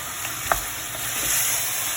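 Jaffna-style chicken curry stirred in a pot, a steady close sizzle with one sharp utensil knock, no talk.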